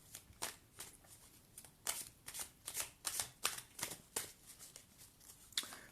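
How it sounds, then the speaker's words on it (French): Cards being shuffled for a card reading, a series of soft, quick riffling bursts at an uneven rhythm, close and quiet, with no voices. "je vais faire donc le tirage de cartes"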